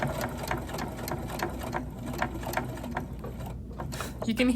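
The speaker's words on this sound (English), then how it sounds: "how difficult it is for my machine to go through all these layers" A sewing machine strains to topstitch through thick layers of fabric on a wrap skirt, a fast, rhythmic mechanical chatter that runs steadily with a voice faintly underneath.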